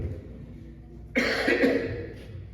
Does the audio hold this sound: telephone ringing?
no